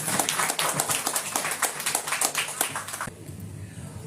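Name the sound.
applause for two guests on stage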